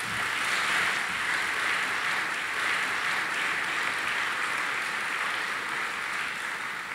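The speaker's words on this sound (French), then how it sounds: "Merci de l'applaudir." Audience applause at a memorial tribute gathering, a dense steady wash of clapping from a crowd that holds evenly for several seconds without any talk.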